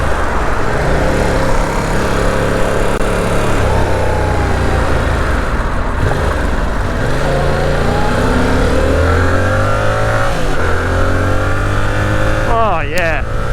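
A 2022 Yamaha R7 motorcycle's engine drones loudly throughout the ride, pitch rising and falling through gear changes, with a sharp rev burst near the end and heavy wind rush; a rider's voice briefly comes through.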